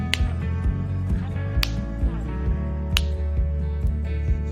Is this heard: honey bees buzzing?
no